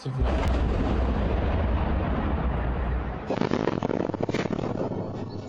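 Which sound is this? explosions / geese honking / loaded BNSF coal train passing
explosions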